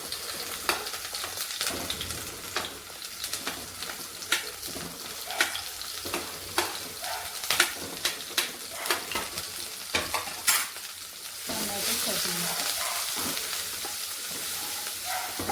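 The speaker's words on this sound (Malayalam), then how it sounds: "അതിനുശേഷം നമുക്ക് ജിഞ്ചർ ഗാർലിക് ചതച്ചത്, അതിനൊപ്പം തന്നെ പച്ചമുളക് ഇട്ടെടുക്കാം" Crushed ginger, garlic and green chili sizzle in hot oil in a pan, with a steady frying hiss broken by repeated scraping and stirring clicks, growing slightly louder near the end.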